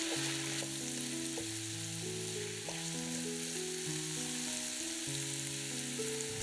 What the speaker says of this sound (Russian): Обжариваем лук с грибами примерно 2-3 минуты.